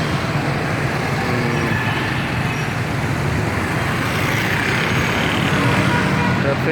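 Dense, steady road traffic fills a busy market street during Ramadan shopping, a loud continuous roar of cars, buses and trucks with engine rumble throughout.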